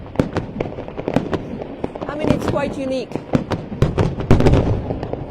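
Fireworks burst and crackle at a July 14 Bastille Day display in Saumur in the Loire Valley, with repeated sharp pops and booms in an irregular rhythm and a loud crowd cheering and talking over them.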